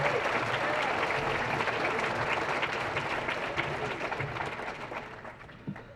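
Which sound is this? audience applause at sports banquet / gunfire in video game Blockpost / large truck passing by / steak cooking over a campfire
audience applause at sports banquet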